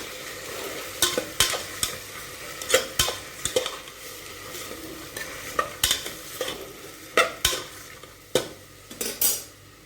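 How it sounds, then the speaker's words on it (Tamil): A spoon scrapes and clinks against a pan as onions, tomatoes and mixed vegetables sizzle softly, stirred in steady, irregular strokes with no talking. "இதை நல்லா வதக்கிக்கலாம்"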